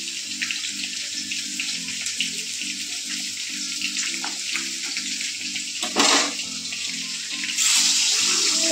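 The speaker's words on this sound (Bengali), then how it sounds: "এখানে আমি বড়াটা ভাজবো" Bora fritters frying in a pan, a continuous dense sizzle with a faint repeating low rumble underneath and a sharp crackling flare near the end, no talk.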